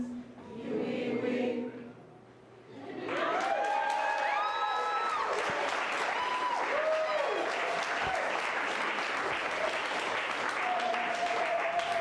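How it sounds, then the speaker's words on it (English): A concert audience at the W.O.W. Hall applauds after a song, quiet singing leading into dense, sustained clapping with scattered cheers and whoops that continues steadily to the end. "give yourselves a round of applause"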